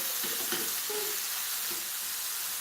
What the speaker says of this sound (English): so I'm going to be frying the sausage too.